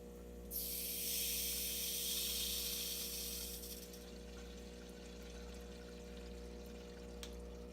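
A strong rush of water gushes through an aquarium refill hose for a few seconds, then drops to a quieter steady flow over a constant low electrical hum.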